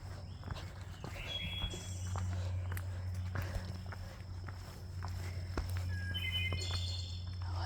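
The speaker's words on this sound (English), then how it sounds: "hearing all the birds" Faint bird chirps and calls scattered through a quiet outdoor scene with crickets and fireflies, with soft footsteps and low background rumble.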